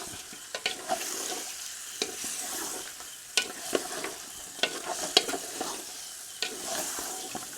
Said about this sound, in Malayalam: ഇനി ഈ ചിക്കൻ ജസ്റ്റ് ഇത് ഇട്ടിട്ട് നമുക്ക് ലേശം ഒന്ന് ഇളക്കി കൊടുക്കാം